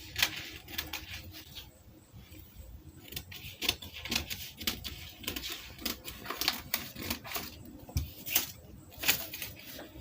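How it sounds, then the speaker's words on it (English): Scissors snip through fabric while cutting out a sewing pattern for a monosleeve bubu gown, giving a steady run of close, crisp cuts and rustles with a few louder snips. "So I will be cutting out this my pattern."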